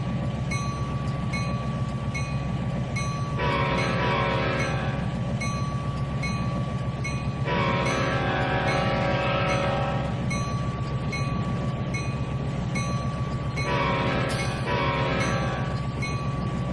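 A diesel locomotive horn in the Trainz 2019 railroad game sounds a level-crossing pattern of long and short blasts over a constant engine rumble and rolling train noise.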